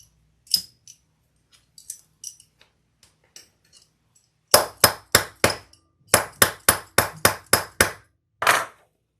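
Hammer strikes on a leather shoulder bag panel, a few scattered light taps followed by a run of about ten sharp, evenly paced whacks, close and loud with short silences between.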